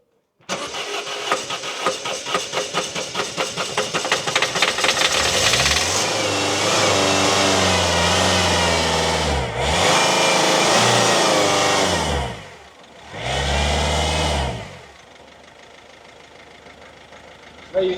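A Citroën Berlingo engine cranks with rapid rhythmic chugging, then catches and runs loudly, revving up and down a couple of times before settling to a quieter idle.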